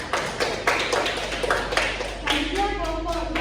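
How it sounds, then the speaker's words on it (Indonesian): Students in a micro-teaching maths class clap for group 1, a short run of uneven claps from several hands at close range, fading as a voice begins speaking. "Kasih tepuk tangan dulu untuk kelompok 1."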